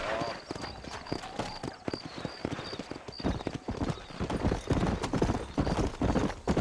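Horses' hooves clip-clopping at a steady trot in the video game Red Dead Redemption, continuous and fairly close, with a faint repeating jingle of tack and a snort or whinny; voices talk over the riding.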